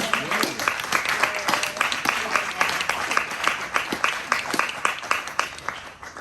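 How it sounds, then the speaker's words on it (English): A seated audience at a photography talk gives a round of applause, sustained brisk clapping that gradually thins and fades toward the end, fairly near. "let's give them all a round of applause"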